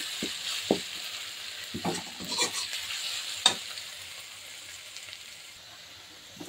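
Raw whole spices with salt and turmeric tempering in hot oil, a steady close sizzle broken by several sharp clinks and scrapes of a utensil stirring against the pan, which fade as the hiss settles.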